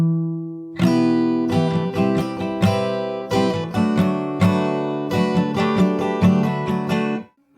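Fingerstyle acoustic guitar playing part of a song, a steady run of plucked and strummed chords after a short held note, close and clear with no talking.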